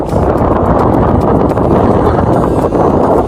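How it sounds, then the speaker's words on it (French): Loud, steady wind buffeting the microphone while cycling, a dense low roar with constant rumbling gusts throughout and no clear voice over it. "Désolé si vous m'entendez pas bien, il y a beaucoup de vent."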